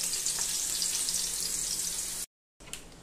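Chicken with garlic sizzling and frying steadily in a pan, a loud continuous crackle that cuts out briefly and then resumes.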